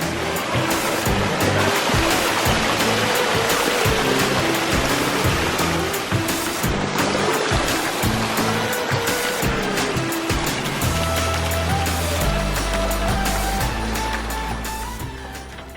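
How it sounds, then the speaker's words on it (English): Steady rushing water pours and splashes continuously, a full broadband wash of a flowing water feature heard up close. "what you can do with a decorative water feature"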